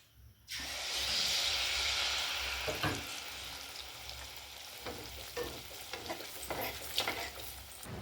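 Pumpkin malpua batter hisses and sizzles in hot oil in a village kitchen, a loud burst of frying after the batter drops in, then quieter sizzling broken by scraping and stirring clinks.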